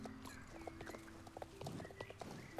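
Horse hooves in the Star Stable video game beat out a quick, steady galloping clip-clop, faint and rhythmic over a continuous low game background.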